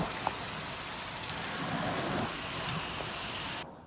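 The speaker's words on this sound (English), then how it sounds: "I think I'm going to wait for this rain to clear" Steady rain falls heavily on a surface, a constant close hiss with scattered louder drops, then cuts off abruptly.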